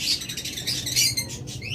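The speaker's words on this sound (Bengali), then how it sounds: "চমৎকার এই সুপার কোয়ালিটি পাখিগুলো যদি আমাদের কাছ থেকে নিতে চান" Pet birds at a local breeding farm, such as budgerigars, lovebirds and cockatiels, keep up a dense, continuous chorus of high chirps and twitters, close and fairly loud.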